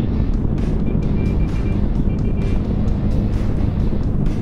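A motor tricycle approaches, its small engine droning loudly and continuously nearby, with road rumble and a buzzing motor tone, and no voices.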